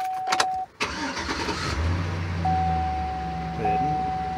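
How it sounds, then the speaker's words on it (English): After an oil change with six quarts added, a car engine cranks briefly, catches and settles into a steady, close idle, with a thin electronic beep running through it. "I'm going to start the engine."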